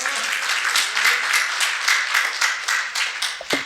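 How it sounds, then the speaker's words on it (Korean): An audience at a lecture claps for several seconds, a crisp, moderately loud patter of many hands that thins slightly toward the end. "전화하실 것 같으면 박수 부탁드립니다."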